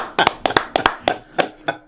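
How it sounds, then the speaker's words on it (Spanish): A few people clapping after a card trick, sparse, uneven claps in small bursts at close range, with no talking. "Aplauso que se vale"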